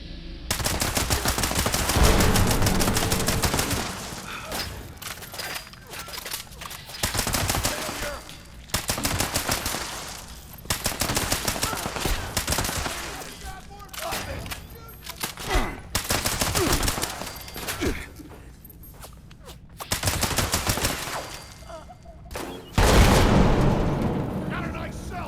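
Automated turret gunfire from a bunker in the video game Fallout 76, with repeated loud sustained bursts of rapid shots separated by short pauses, continuing for the whole stretch alongside occasional player speech.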